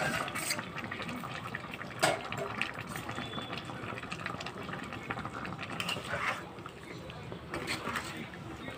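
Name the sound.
water poured into pan for prawn and pointed gourd curry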